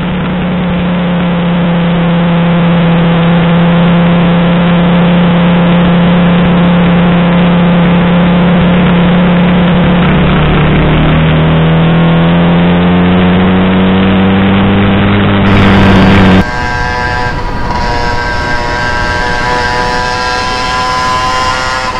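Motorized bicycle with 26-inch wheels, a GT90 case reed motor and RM80 expansion pipe, rides past with a loud, steady buzzing two-stroke drone that shifts pitch as it accelerates, dominating throughout.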